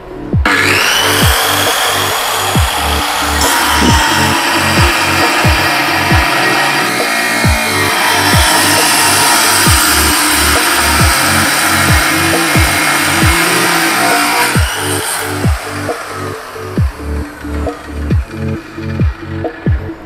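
An ALDO 7-inch type 790 cut-off machine cuts through a workpiece with a loud, continuous high whine over repeated rhythmic low thumps, close by, easing to pulsing bursts toward the end; no voices.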